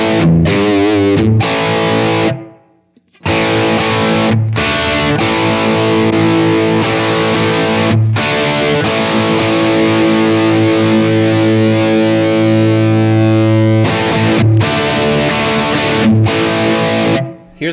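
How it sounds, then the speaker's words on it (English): Heavily overdriven electric guitar through a Blackstar Amped 2 with drive and thick fuzz, loud and sustained chords with a few brief stops between phrases. "We've got a drive in the middle and fuzz."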